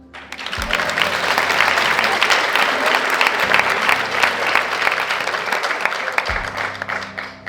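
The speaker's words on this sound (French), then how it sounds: "J'ai jamais été applaudi comme ça." A cabaret audience claps loudly and steadily, the many crisp hand claps merging into a sustained, full wash of applause that runs the whole stretch. Low musical tones sit faintly underneath.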